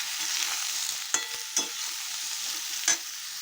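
Eggplant fries in a pan for a fish curry with a soft, continuous sizzle at low level, marked by a few sharp scraping clicks from stirring.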